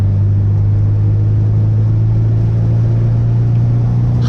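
A car pulling hard in second gear on a North Carolina mountain touge road while chasing an S2000, a loud steady engine drone with a strong low tone held throughout, close and continuous.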